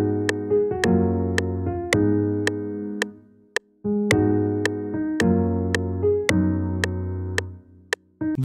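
A mellow keyboard melody, the main melody of a lo-fi beat made in FL Studio, rolls over sustained low chords, with a brief gap near the middle before the phrase repeats; soft and close.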